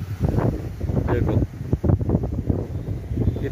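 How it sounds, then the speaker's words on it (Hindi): Strong wind gusting through a plant nursery, roaring and buffeting the microphone in surges, with someone speaking over it. "कितनी तेजी से हवा चल रही है,"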